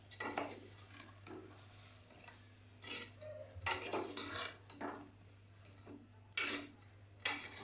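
A spoon scrapes and clinks intermittently against a pot as masala rice with peas is stirred and mixed, the strokes quiet and spaced irregularly.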